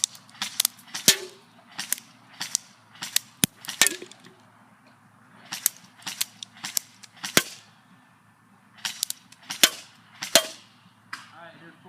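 An Ignite Black Ops M4 Viper airsoft rifle fires on semi-auto, about a dozen sharp, close cracks spaced irregularly roughly a second apart, with faint background sounds between shots.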